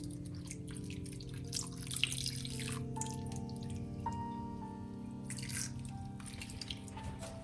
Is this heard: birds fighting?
no